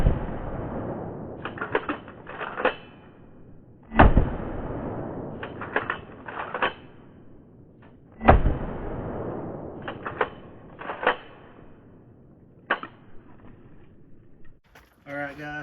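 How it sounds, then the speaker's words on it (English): A Harrington and Richardson shotgun blasts targets at about 10 yards, with a few loud, sharp reports separated by quieter clicks and clatter of handling, and a voice briefly audible near the end. "I'm in closer, about 10 yards. I'm just going to blow some targets up."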